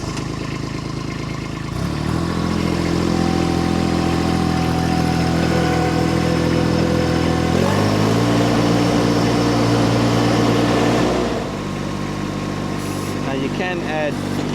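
A Baumalight TRL630D mini skid steer's diesel engine drones steadily up close, rising in pitch and load as it works lifting a firewood tote, then settling back, with someone talking over it.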